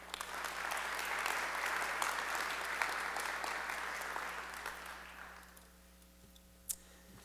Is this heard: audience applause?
yes